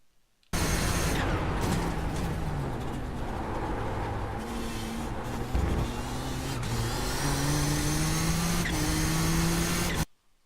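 A race car in iRacing laps the Zolder Grand Prix circuit at speed, its engine droning steadily and loudly, climbing in pitch through the gears with brief shift dips throughout.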